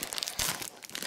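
Foil wrapper of a Topps Match Attax Bundesliga 2013/14 booster pack being torn and crinkled open by hand, a close, continuous crackly rip lasting about a second.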